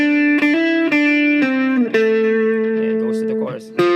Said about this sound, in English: There's a riff right before the chorus, and then the notes are A,